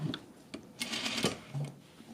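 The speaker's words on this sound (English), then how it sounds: "And then just back stitch at the top." A home sewing machine runs short bursts of back stitching at the top of an exposed zipper on a garment, its close mechanical whir starting and stopping with small clicks between passes.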